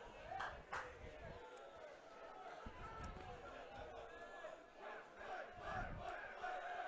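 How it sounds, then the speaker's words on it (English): A high school baseball crowd during an Arkadelphia versus Nashville game stirs and cheers, scattered shouts and chatter rising in bursts at a distance, while a commentator's voice talks over the noise. "Crowd coming alive."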